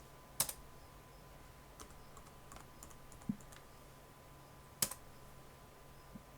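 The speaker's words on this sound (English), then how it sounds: "so I'll type QWERTY" A few sparse key clicks on a computer keyboard as a password is typed at a command-line prompt, quiet and close, with two sharper taps standing out and long pauses between presses.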